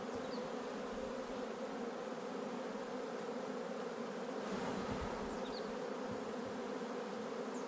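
Honeybees buzz steadily at an open hive during a beekeeper's inspection, a dense, continuous hum that stays close and even throughout with no talking.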